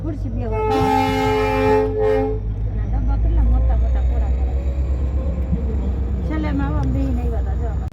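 A train from Pune passing a railway crossing: a loud, sustained horn blast early on, then a heavy rumble of the passing train, close by, with people talking over it.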